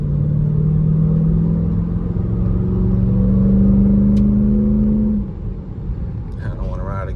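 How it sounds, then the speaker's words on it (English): A 2024 Dodge Durango SRT 392 with its Hemi V8 accelerating, a loud, close engine roar holding and rising in pitch before easing off near the end, heard from the cabin. "Man, them Hemi motors, man. Once you start stepping on the gas, them things sound, they come alive"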